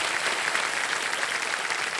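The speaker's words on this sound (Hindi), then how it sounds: "तालियां बज जाएं" Dense studio audience applause on a television quiz show set, a continuous even wash of clapping with no voices over it.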